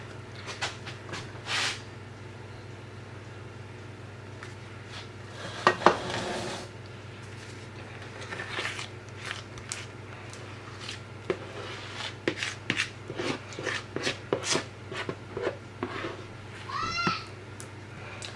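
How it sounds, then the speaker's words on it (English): A spoon scraping banana bread batter out of a mixing bowl, making close, irregular clinks and scrapes against the bowl over a low steady hum, with a brief cat meow near the end. "I'm just being really disgusting at the moment, scraping it out with the spoon."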